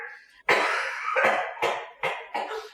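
A person coughs hard after a sip of blended scotch whisky: one long harsh cough followed by three shorter bursts, close and loud with no talking.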